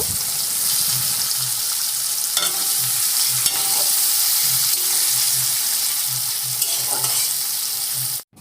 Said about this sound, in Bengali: তারপরে দিয়ে দিলাম আমি গোটা জিরে এবং কুচি করে রাখা পেঁয়াজগুলো দিয়ে দিলাম তো পেঁয়াজটাকে লাল লাল করে আমি ভেজে নেব